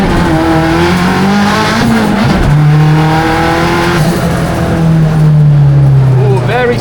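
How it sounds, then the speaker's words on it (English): Ford factory race car driven hard on a track, its engine droning loud and close with shifting revs, tires squealing in places, and a driver talking over the engine noise. "That's a proper race car."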